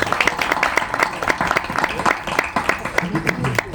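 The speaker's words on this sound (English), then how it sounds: "Let's give a round of applause" Steady clapping from a conference audience greeting a discussion panel, a continuous patter of many hands at moderate volume with a host's voice talking over it.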